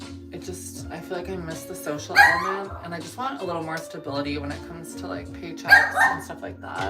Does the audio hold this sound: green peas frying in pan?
no